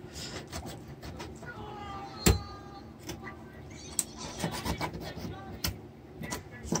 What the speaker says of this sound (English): Kind of scrape it off the bone.